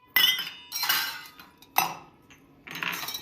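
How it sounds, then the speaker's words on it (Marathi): Metal utensils clink and clatter in four sharp bursts with pauses between them, used as a sound effect in a comedy skit, close and fairly loud with no talk over them. "आणि हे भांड्याचा आवाज कुठे निवडलाय"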